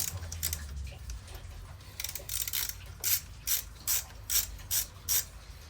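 A hand ratchet loosens the front wheel bolts of a CF Moto 800 MT-X motorcycle, with a few faint clicks followed by about six crisp, evenly spaced bursts of rapid clicking close by.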